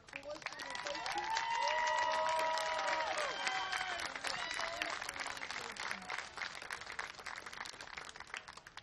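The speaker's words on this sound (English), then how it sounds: "Let's all give West Seminole a round of applause" Crowd at a youth baseball tournament game applauding a team, loud sustained clapping that swells early and then thins, with a voice speaking over it through a public address system.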